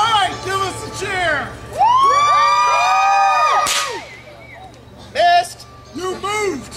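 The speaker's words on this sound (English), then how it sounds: "give us a cheer" A group of high voices whoops and cheers loudly in rising and falling shouts, breaking off briefly before a few more excited yells.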